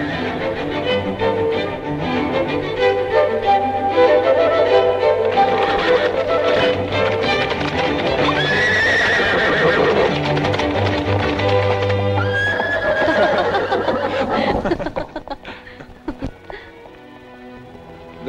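Wild horses whinny and neigh loudly over the drumming of galloping hooves, a busy herd sound that fades out near the end.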